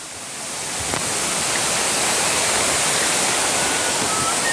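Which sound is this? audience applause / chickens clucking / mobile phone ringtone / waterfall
waterfall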